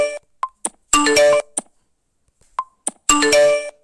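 Mobile phone notification sound from the Zedge app, a short chime of quick ding and melodic note bursts, played twice with brief silences between, clear and alone.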